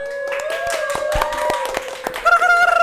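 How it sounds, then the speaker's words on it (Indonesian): Studio audience clapping after a podcast song plug, a scattered run of sharp hand claps under sustained music tones, with a brief vocal phrase near the end. "Tepuk tangan dulu"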